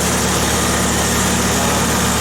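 A Farmall Super C tractor engine runs right after starting, a loud, close, even idle with a steady rapid pulse and no other sounds.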